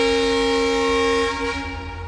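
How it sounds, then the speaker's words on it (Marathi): A DEMU train departs Kulem in Goa on the single line toward Vasco da Gama, giving a loud, sustained tonal horn-like drone that holds steady for the whole moment, with no voices. "चला, ऑन टाइम आपली ट्रेन रवाना झाली 12:20ला"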